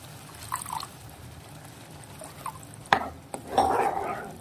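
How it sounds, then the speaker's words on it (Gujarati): Water poured into a pan of spiced curry made with whole brinjals, lemon juice and jaggery, heard as a short splash and trickle near the end, with light stirring and pan clatter earlier. "હવે આમાં આપણે પાણી નાખીશું."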